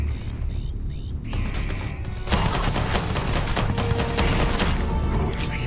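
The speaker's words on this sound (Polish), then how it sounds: "Wybacz za strzał w głowę!" Gunfire in the video game Starfield, rapid bursts of weapon fire that grow denser and louder partway through, with mechanical clicks and hum underneath.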